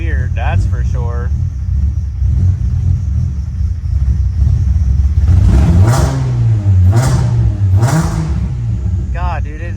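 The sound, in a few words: Nissan 350z engine idling roughly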